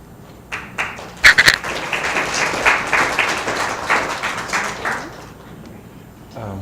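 Audience applause at a university cardiovascular science seminar, a burst of clapping that swells and holds for several seconds before fading, fairly loud in the room.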